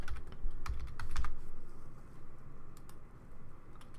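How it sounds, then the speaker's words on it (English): Typing on a computer keyboard while editing in Photoshop, quick bursts of close, light key clicks with short pauses between, heard alone without speech. "I'm going to press Ctrl A on my keyboard to select the entire document"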